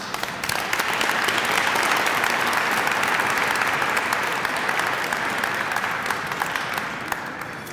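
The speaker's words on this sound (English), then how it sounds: "have a round of applause for our honorees today, please" A luncheon audience at a Black History Month closing event applauds its honorees, a dense, steady wash of clapping that holds loud and even for several seconds before tapering slightly at the end.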